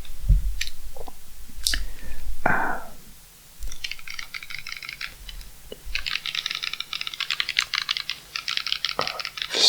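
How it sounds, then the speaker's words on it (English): Shoulder buttons on a Nintendo DS Lite handheld console are clicked repeatedly in quick, tight bursts, close and crisp, with some handling noise earlier and no talking. "clicky shoulder buttons. You can see there, they're super tight."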